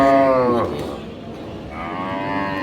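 Cattle at a rural livestock market in Aftabganj, Dinajpur, low up-close moos, one long call at the start and another rising near the end, over a steady murmur of crowd noise.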